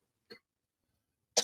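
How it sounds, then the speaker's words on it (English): A single short cough close into a microphone, faint and brief, followed by a second sharper burst at the very end, otherwise silence. "I apologize for coughing into the mic"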